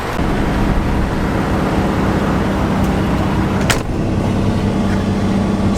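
A car rolling along a road on the way to Texas City, with steady broadband road and engine rumble and one brief passing whoosh near the middle.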